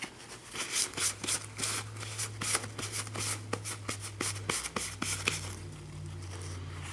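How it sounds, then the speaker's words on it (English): Foil-treated paper is rubbed back and forth between a paper towel, giving a rhythmic series of close, dry scraping swishes that carry on for several seconds with a low hum beneath. "I'm just going to place it between my paper towel, and I'm just going to rub it back and forth."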